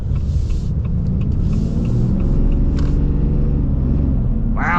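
Steady low rumble of a 2025 Ram 3500 high output pickup with an 8-speed transmission, leveled on 35-inch tires, driving along a road with continuous engine and road noise, close and even throughout.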